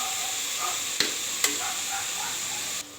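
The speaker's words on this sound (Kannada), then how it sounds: "1 ರಿಂದ 2 ನಿಮಿಷ ಬಾಡಿಸ್ಕೊಳ್ಳಿ ಇದನ್ನು" Vegetables for a pulao sauté in a pan, a close, even sizzle with two quick scraping clinks from stirring before the sound drops off abruptly near the end.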